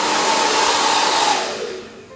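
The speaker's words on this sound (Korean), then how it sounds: "지금은 좀 따뜻한 바람이었고 엘킴 드라이기는 온도를 3개로 나눌 수가 있어요" Elkim hair dryer blowing warm air onto a fringe, a steady close whooshing roar that fades away near the end.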